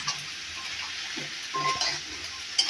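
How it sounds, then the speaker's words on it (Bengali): Cumin, green chillies and onion sizzle steadily as they are stir-fried in a pan, a constant close frying hiss with faint utensil scrapes and a sharper clink near the end. "এবার এই দেখো কষিয়ে নিচ্ছি"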